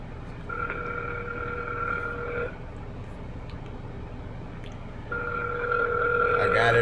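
An outgoing telephone call ringing back through a handset, two long electronic ring tones separated by a pause, fairly clear over faint background hum.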